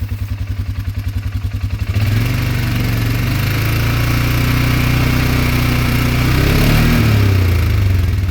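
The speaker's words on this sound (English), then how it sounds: "see, the engine itself is pretty quiet" A 2025 Polaris Sportsman 450 HO ATV engine idles steadily in park with a low, throbbing putter, first choppy and pulsing, then smoother and louder, close by with no talk.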